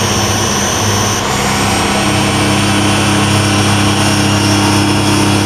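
A Mercedes-Benz diesel injection pump runs on a test bench with a loud, constant mechanical drone and hum, steady throughout and heard alone.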